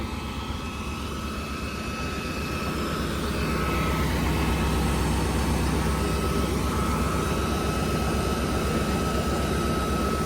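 A 755 tractor pulling a Jagatjit super seeder while sowing barley in a field, its engine droning steadily and loudly at close range throughout, with a constant low rumble and no talking.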